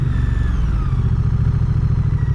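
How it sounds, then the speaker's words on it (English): A 2027 Moto Guzzi Stelvio motorcycle pulls away from a stop, its engine a steady low thrum with rising tones and a light mechanical clatter of injector noise, heard close and continuous. "A lot of injector noise."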